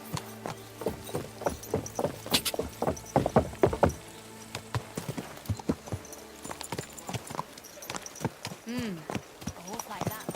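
Horse hooves clip-clop in a rhythmic run of close, sharp strikes in Kingdom Come: Deliverance II, loud at first then thinning into scattered steps as a voice speaks over them.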